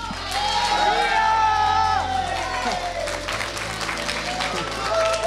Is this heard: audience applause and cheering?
yes